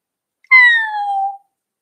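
A storyteller's voice imitates a cat, giving a single clear, drawn-out meow that falls slightly in pitch, close and loud, alone against silence.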